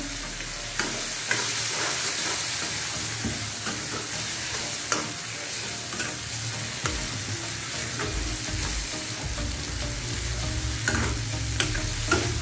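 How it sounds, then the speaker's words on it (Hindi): Fried okra is stirred into sizzling masala in a karahi: loud, close frying hiss with repeated scraping and clattering stir strokes and thuds of the spoon, no talking. "अभी हम इसमें हमने जो भिंडियाँ फ्राई करके रखी थी वो हम इसमें शामिल कर लेते हैं और अच्छे से मिक्स कर लेंगे।"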